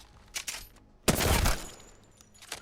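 Submachine gun firing on automatic in the video game Apex Legends, a few isolated shots followed by a short loud burst of rapid fire, then scattered faint shots.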